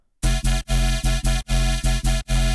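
A Serum synth bass runs through an OTT multi-band compressor and plays alone as a loud, buzzy, heavily compressed growl. It comes in rhythmic chopped notes with sharp gaps between them.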